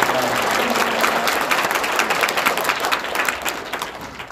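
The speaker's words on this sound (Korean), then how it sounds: "우리 귀한 말씀 증거해 주신 목사님께 우리 뜨거운 박수로 감사합니다" A church congregation at an Easter service claps warmly for the pastor, a full, continuous burst of many hands that holds steady before thinning slightly.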